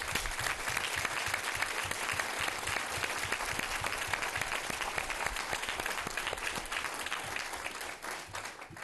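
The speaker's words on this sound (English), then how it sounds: "Let's give them another round of applause." A school board meeting audience gives sustained applause for student performers, a dense even wash of many hands clapping that tapers slightly near the end.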